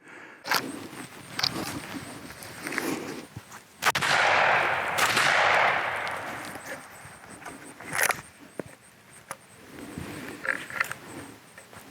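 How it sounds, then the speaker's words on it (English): A Darne shotgun is fired outdoors: several sharp, loud reports spaced across the clip, one followed by a long rolling echo, with faint handling noises between shots. "we'll switch gears and do some more shooting"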